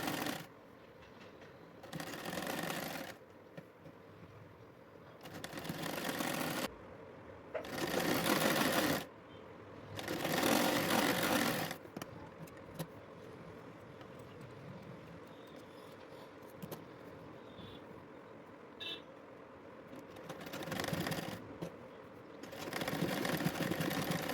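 Sewing machine stitching a kurta (fatuhi), running in several bursts of a few seconds each with short pauses between, close and steady, with no talk.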